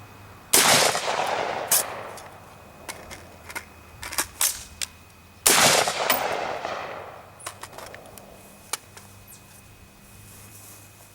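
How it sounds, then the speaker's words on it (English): Two sharp, loud X95 rifle shots ring out about five seconds apart, separated by crisp metallic clicks and rattles of magazine handling, with more clicking after the second shot. "I'm gonna shoot one shot out of this and then go to a P mag."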